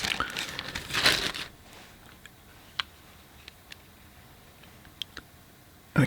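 A plastic bag wrapped around a watercolor palette and paint box crinkles loudly for the first second and a half, then gives way to a few sparse, sharp ticks and rustles against near silence.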